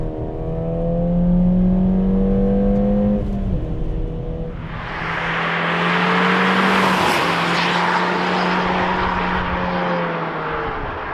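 A Ford Fiesta ST200 engine drones steadily with a low tonal hum, then surges into a louder, rushing roar as it pulls past, heard loud and close with no talking.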